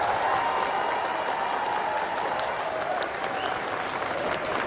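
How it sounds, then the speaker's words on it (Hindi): A packed crowd claps loudly and continuously to welcome Dinesh Shah, a dense, even wall of applause that holds steady throughout. "तहे दिल से बधाई देते हुए जोरदार तालियों के साथ स्वागत करते हैं श्री दिनेश शाह जी का।"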